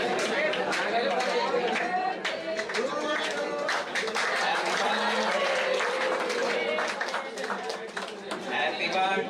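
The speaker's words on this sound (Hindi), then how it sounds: "जोरदार तालियां।" Crowd applause and clapping at a students' meeting addressed by Nirmala Sitharaman, a dense steady roar of many hands lasting throughout, with voices and chatter mixed in.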